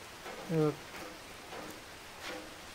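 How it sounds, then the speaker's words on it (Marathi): Heavy rain falls steadily in a village during a Ganesh festival in Ambheri, Malvan, Sindhudurg, a soft continuous wash of drops with a brief voice partway through. "आम्ही इथे आल्या पाऊस चालू झाला जोरात"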